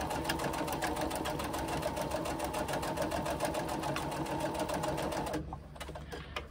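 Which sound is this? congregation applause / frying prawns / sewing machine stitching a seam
sewing machine stitching a seam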